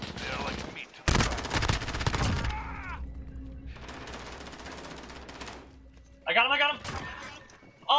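Automatic gunfire in a 3v3 gunfight video game: a loud close burst, then a longer rattling stretch and a final sharp volley, with voices talking over parts of it.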